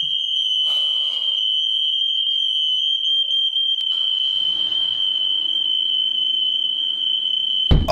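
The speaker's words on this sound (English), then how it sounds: "everyone's smoke alarm's going off." A smoke alarm shrieks with a continuous piercing high-pitched tone, loud and unbroken, with faint background noise beneath it.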